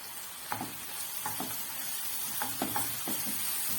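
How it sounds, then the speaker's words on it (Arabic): Carrots sauté with onions and spices in a pan for a meatless filo pie, giving a continuous close sizzle broken by several sharp taps and scrapes from a stirring spoon, with no voice. "نحط الجزر عشان بياخد وقت كده في التشويح شويه"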